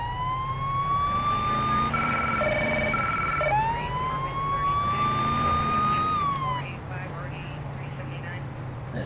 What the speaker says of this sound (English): The sirens get so loud.